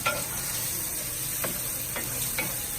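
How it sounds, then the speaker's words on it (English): Sausage sizzles steadily in a cast iron pan alongside shrimp and vegetables while it is pushed around, and a few light scraping stirs stand out over the continuous frying hiss, close up with no talking. "I'm just going to have just kind of move my sausage around a little bit."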